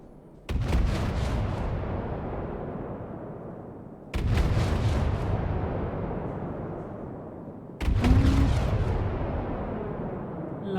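Three heavy battleship turret cannon blasts in the From the Depths game, evenly spaced about four seconds apart, each a loud booming report with a long rumbling decay, no talk.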